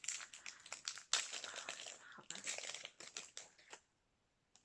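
Packaging on a Cailleach Candles Trick r Treat box is torn and ripped open, with close crinkling and tearing in several bursts before falling silent, and no speech heard.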